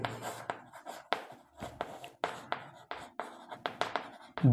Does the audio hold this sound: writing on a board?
yes